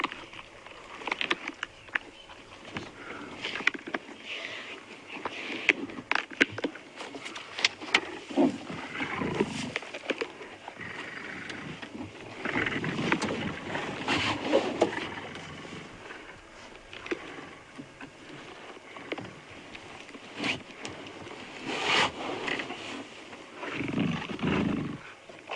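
Male predator feeding noisily on a young warthog, jaws crunching through rib bones: irregular cracks, crunches and wet tearing with growls, heard outdoors at moderate distance over faint background ambience.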